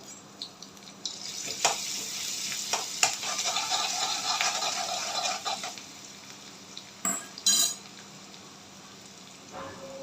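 Minced garlic and grated ginger fry in oil over a high flame for street-style veg chowmein, with a bright continuous sizzle under clinks and scrapes of a utensil against the pan and a few sharper knocks later on.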